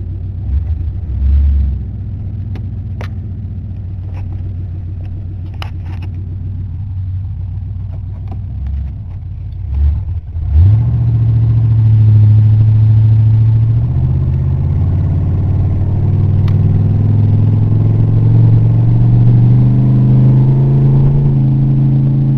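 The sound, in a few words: car engine running and revving while driving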